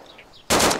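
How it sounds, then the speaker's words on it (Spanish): A loud burst of rapid gunfire in DayZ cuts in abruptly after a moment of near silence, continuing as a dense, sustained rattle. "Pacoski, es disparo, güey."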